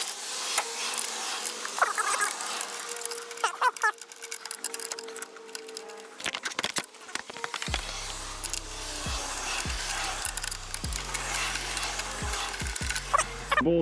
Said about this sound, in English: We're going to be loosening these 4 bolts like I mentioned before.